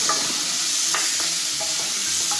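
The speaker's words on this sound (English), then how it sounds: "I'm gonna mix that up together until the mushrooms are soft" Mushrooms sautéing in a pan for risotto, with a steady close sizzle and scraping stirring strokes repeating throughout, no voices.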